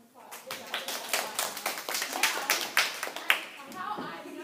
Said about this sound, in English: So give you a round of applause.